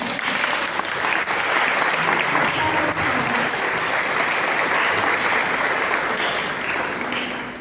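A large church congregation claps steadily and enthusiastically in praise, with sustained applause that fades slightly toward the end and some voices underneath.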